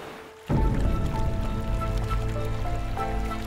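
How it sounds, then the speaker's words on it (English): Loud, steady rush of a large river flowing close by, a dense continuous roar that swells in abruptly and holds without pause. "The sound of the river, the amount of water which is moving,"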